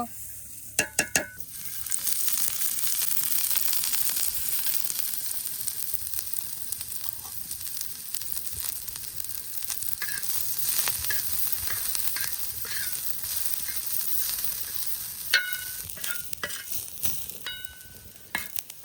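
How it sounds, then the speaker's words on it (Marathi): Onion fries in a pan on a traditional wood-fired stove, giving a continuous loud sizzle with occasional clinks and scrapes of stirring, while a few faint high tones sound later on. "यानं हा कांदा भुजून घेतो"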